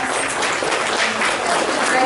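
An audience at a Chamber Foundation education awards luncheon applauds the scholarship committee with dense, continuous clapping, close and loud, with murmuring voices mixed in.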